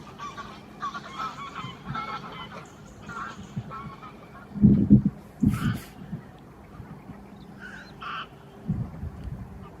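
Scattered goose honks and calls in an October field, some near and loud, others distant, over an open outdoor background.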